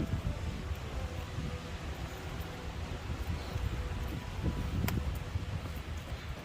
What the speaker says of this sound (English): Getting pretty windy out.